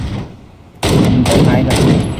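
Gunfire from PUBG gameplay, a dense run of loud shots starting abruptly and continuing in bursts to the end, with voices of players mixed underneath.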